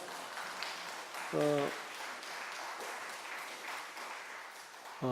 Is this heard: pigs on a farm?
no